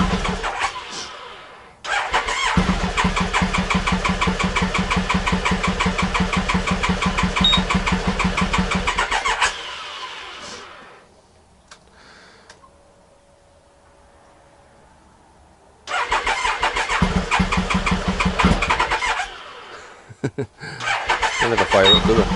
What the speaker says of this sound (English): So then you just press the start button.